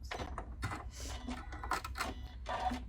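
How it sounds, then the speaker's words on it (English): Sewing machine stitching a fabric scrunchie in short irregular bursts of rapid mechanical clatter with brief pauses between them, quiet and close. "I'm going to take it to the sewing machine one more time and just stitch over it once"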